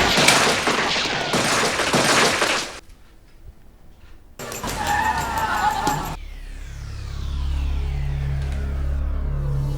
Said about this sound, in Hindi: उन लोगों ने फिर से फायरिंग की है